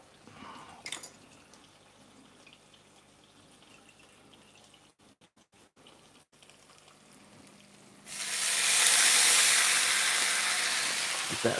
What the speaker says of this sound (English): Get that sizzle going.